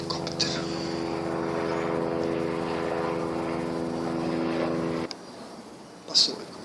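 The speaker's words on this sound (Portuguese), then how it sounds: "Está chegando um helicóptero." A helicopter passing overhead, a steady droning engine and rotor hum that holds for about five seconds, then cuts off abruptly, leaving quiet with a brief faint noise afterward.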